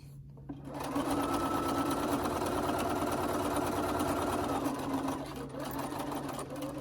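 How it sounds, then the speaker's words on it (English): A sewing machine runs steadily through a regular straight stitch on a zippered project bag, its motor a continuous close hum that holds level for about four seconds before slowing and stopping near the end. "I'm just using a regular stitch length, just a regular straight stitch."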